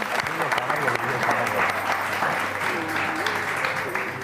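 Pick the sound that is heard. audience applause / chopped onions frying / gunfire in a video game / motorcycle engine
audience applause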